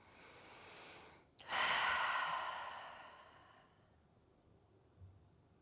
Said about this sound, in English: Taking soft breaths.